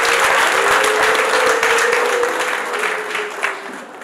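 Wedding guests applaud the bride's mother, a loud, sustained burst of crowd clapping with a high ululating cry riding over it, close and full before easing slightly.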